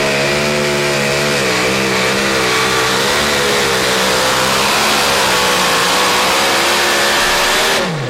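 A pulling truck's engine revs hard at a truck pull event, a loud, sustained, rising roar with strong harmonic whine that holds for several seconds before dropping off abruptly at the end.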